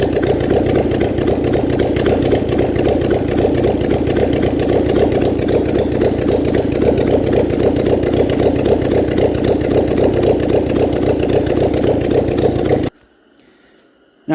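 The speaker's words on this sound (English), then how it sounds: "I just had the engine running right there" A motorcycle engine runs steadily and loudly during an ignition coil spark test, a continuous mid-pitched idle that cuts off abruptly near the end, leaving near silence.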